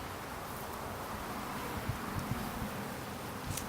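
Dense, steady buzzing of many honey bees at a hive, a constant swarming hum that fills the whole clip with no voices.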